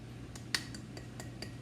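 A utensil scrapes and clinks against an opened glass jar as mix is taken out, a handful of light separate taps and one sharper clink over a quiet hum.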